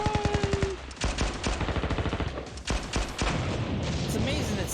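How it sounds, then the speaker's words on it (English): Rapid bursts of automatic gunfire rattle alongside booming explosions in Blue Archive, dense and loud, with a rumbling chaotic backdrop throughout. "dodge all these bullets and explosions"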